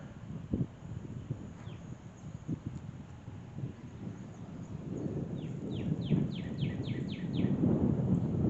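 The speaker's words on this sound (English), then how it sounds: "the birds are sure chirping this morning" Songbirds chirp repeatedly over a steady outdoor hum on a morning lake trail near a pedestrian bridge, with a fast run of descending chirps toward the end and low rumbling noise underneath.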